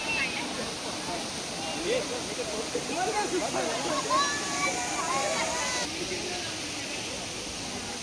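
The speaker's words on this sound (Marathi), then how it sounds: "हा आहे विभूती वॉटरफॉल." A constant wash of falling water from a waterfall, low in the off season, roars in the background, with faint voices and scattered bird chirps over it.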